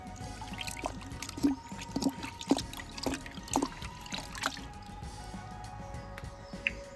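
Motorev car shampoo poured into about two litres of water in a bucket, a wet splashing trickle with a few distinct plops and drips, close and fairly quiet, with no talking.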